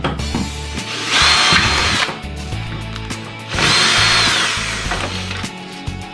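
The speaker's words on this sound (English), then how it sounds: "just got a small drill bit" Power drill with a small bit boring a pilot hole during a trolling motor install: two loud, sustained whirring bursts, each about a second long, separated by a pause, close up and without talk.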